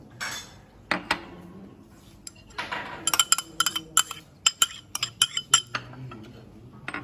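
Cucumber pieces are moved into a bowl with a mixing spoon, giving a run of quick clinks, taps and scrapes against the bowl that quicken in the second half, close by, with no talk.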